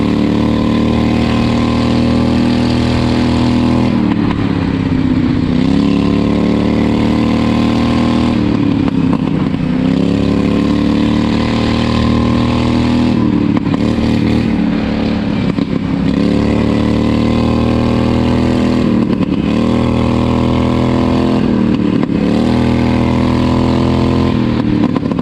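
Engine of a homemade race lawn mower revving hard while being driven, loud and close, rising and falling in repeated throttle surges with clattery mechanical noise throughout.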